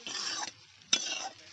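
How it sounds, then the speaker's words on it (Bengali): Spoon scraping and stirring through cooked greens with dry-roasted cumin-coriander powder, two short bursts of rough scraping with a faint sizzle, close and fairly quiet, no talk. "এই গুঁড়ো মশলাটা একটু নেড়ে চেড়ে মিশিয়ে নেব।"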